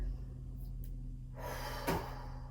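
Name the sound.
inhaling and exhaling during pilates exercise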